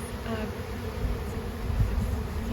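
Honeybees buzz steadily and up close in an open hive during a hands-on beekeeping class, a dense continuous hum with no talking.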